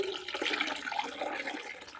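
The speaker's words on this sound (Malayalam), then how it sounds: "ഒരു 10 ഇരട്ടി വെള്ളം ചേർക്കാം." Water poured into a mix of wood ash fertilizer for tomato plants gives a short, close gushing splash that lasts about two seconds.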